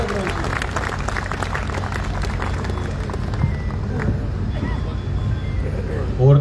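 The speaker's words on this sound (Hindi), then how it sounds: "एक बार हाथ उठा करके ताली बजा करके बुलाइए अनिल अग्रवंशी।" An audience at a live Hindi poetry recital claps to welcome poet Anil Agravanshi, with a steady wash of clapping mixed with voices and crowd noise.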